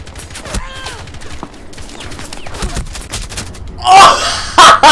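Rainbow Six Siege gunfire in a 1v1 round: repeated close shots in brief volleys, with a loud, dense burst near the end of the round.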